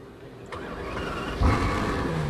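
A sports car engine cranks and fires up with a short surge, then settles into a steady rumbling idle close by.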